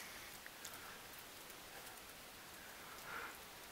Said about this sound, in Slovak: Ďalší deň a znova prší.